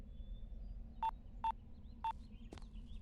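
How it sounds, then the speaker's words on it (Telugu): A phone being dialed: three evenly spaced keypad tones followed by a brief chirp, clear and close over a quiet room hum, with no talking. "ఇదిగో ఫోన్ చేయరా."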